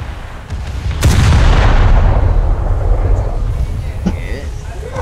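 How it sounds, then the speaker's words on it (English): Main battery guns of a warship in a naval video game fire a heavy salvo: a sudden, loud boom that swells into a long, rolling rumble and roar, staying dense and powerful to the end. "Thanks for exposing your side to me from all my main battery guns to destroy you"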